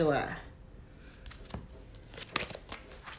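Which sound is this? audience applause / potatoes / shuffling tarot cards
shuffling tarot cards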